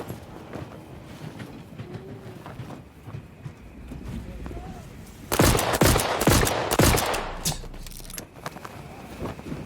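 Gunfire in the Voidtrain video game, heard as a loud cluster of several sharp, rapid shots in the back half, after a quieter stretch with a voice talking.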